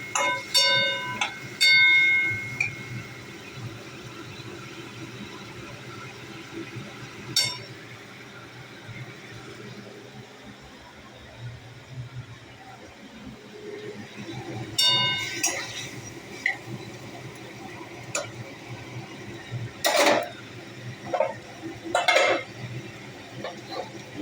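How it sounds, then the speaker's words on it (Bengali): Potato and pointed gourd are stirred in a metal pan, with scattered light clinks and scrapes of a spoon against the pan over a quiet background, bunching into sharper clatters near the end. "আলু পটলটা একটু ভালো করে নাড়াচাড়া করে দিতে হবে"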